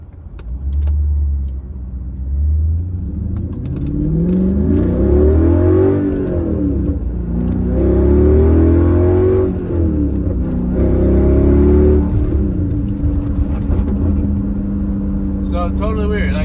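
A Mercedes C55 AMG converted to a manual gearbox accelerates hard from inside the cabin, its engine rising and falling through several rev sweeps and gear changes, loud and continuous over about sixteen seconds.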